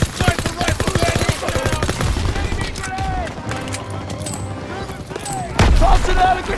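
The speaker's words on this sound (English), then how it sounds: "Everyone open fire!" Dense WWII gunfire from Call of Duty: WWII, with overlapping rifle and machine-gun shots and heavy booms crackling loudly throughout, joined by a final intense burst near the end, while voices shout over the battle.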